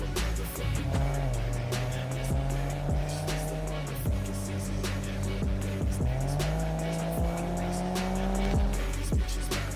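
Nissan Fairlady Z driving hard with continuous engine drone and shifting revs, tires squealing and skidding throughout, loud and close with no talk.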